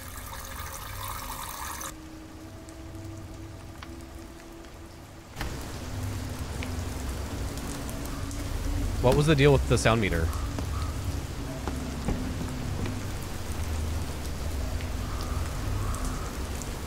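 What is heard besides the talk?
rain in video game Fears To Fathom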